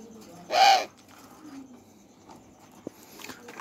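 A tame spotted dove kept in a cage gives one short, soft coo, close by, followed by quiet rustling and a faint tap in a still room.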